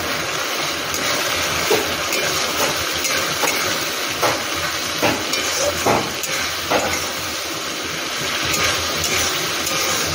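Spices including turmeric and chili powder fry in a pan, giving a steady close sizzle with scattered scraping and stirring knocks throughout.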